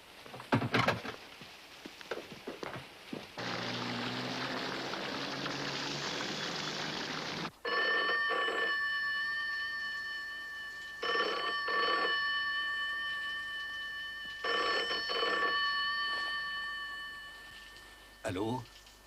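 A telephone bell rings in repeated loud, close bursts separated by short pauses, following a stretch of hissing, rain-like noise.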